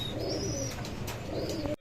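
Pigeons of fancy breeds such as Lalgolla and Rajgolla coo and murmur steadily in a loft, with faint chirps over a constant low hum of background noise.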